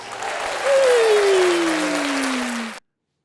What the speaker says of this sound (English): We'll get a round of applause.